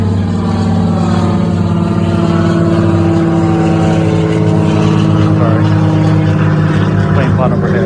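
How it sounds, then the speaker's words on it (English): A plane flying overhead along Seattle's South Lake Union streets, a loud, steady droning engine hum with layered propeller-like tones that swells slightly, heard outdoors. "plane flying overhead."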